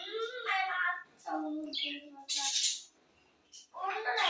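Pet parrots being fed give harsh, harmonic squawks in several close bursts with short gaps between them, mixed with quick higher chirps, loud and nearby in a quiet room.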